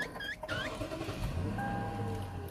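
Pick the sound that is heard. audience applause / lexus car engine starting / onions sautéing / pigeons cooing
lexus car engine starting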